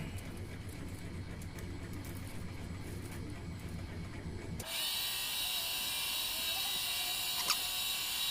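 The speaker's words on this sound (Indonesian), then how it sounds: "Kita amplas pelan-pelan mulai dari amplas 240." A lathe hums steadily, then the sound shifts to a brighter, harsh whirring hiss as 240-grit sandpaper presses against the spinning part, a slug.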